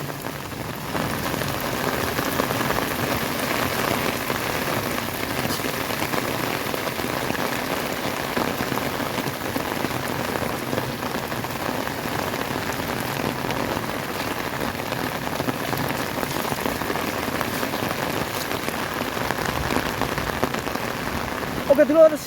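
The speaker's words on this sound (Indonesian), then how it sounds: "Mudah-mudahan hujan kali ini membawa berkah ya, tidak membawa bencana." Heavy rain pours steadily in a strong wind, a dense continuous hiss of drops hammering surfaces at an even, loud level throughout with no pauses.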